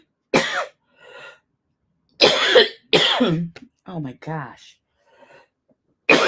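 Several harsh, close coughs in separate fits with pauses between, followed by a gasping breath; a voice briefly exclaims.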